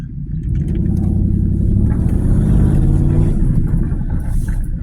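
An Infiniti Q45 with an exhaust leak idles and runs nearby, giving off a deep, rough, throbbing rumble that swells slightly in the middle and stays loud and low throughout.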